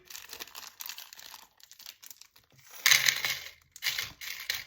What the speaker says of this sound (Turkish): Makasla keseceğim.